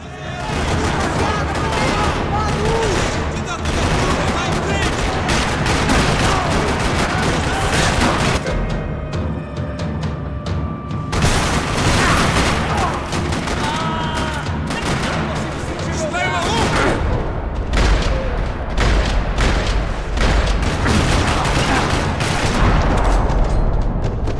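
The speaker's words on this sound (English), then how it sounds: "Another parking lot rattling with gunfire." Dense, continuous gunfire in a parking lot in Max Payne 3, with rapid bursts and booms, loud and chaotic throughout, sounding like an action video game battle.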